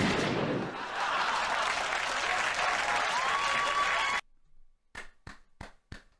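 A crowd breaks into loud, dense applause that carries on for about four seconds and cuts off abruptly, followed by a handful of sharp, separate single claps at an uneven rhythm.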